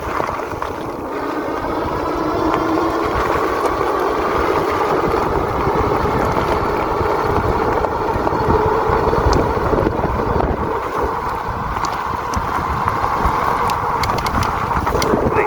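A cheap 2000-watt all-wheel-drive KAIJIELAISI e-bike is ridden at around 20 to 25 mph, a steady rush of wind over the microphone with an even motor hum underneath.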